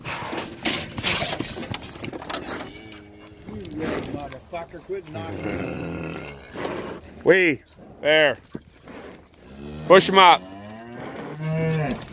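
Cattle moo loudly in several drawn-out calls while being loaded, with people shouting and urging them on throughout, and a dog present among the handlers.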